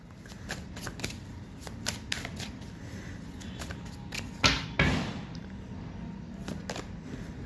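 Tarot cards shuffled and drawn by hand, a quick run of crisp riffling flicks and soft slaps, close and fairly quiet, with a louder flurry of shuffling midway and no talking.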